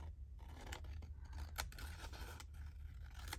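Scissors snipping through a piece of paper ephemera during a crafting session, several short close cuts in quick succession with quiet handling between them.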